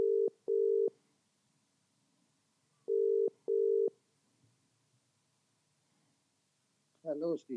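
A telephone line being dialled into gives two short pairs of steady tone pulses a few seconds apart, with quiet gaps between them, followed by a brief warbling ring at the end.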